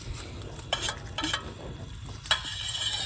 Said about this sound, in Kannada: ನೀಟಾಗಿ ಎಲ್ಲ ಕಡೆ ಎಣ್ಣೆನ ಸ್ಪ್ರೆಡ್ ಮಾಡ್ಕೊತ ಇದ್ದೀನಿ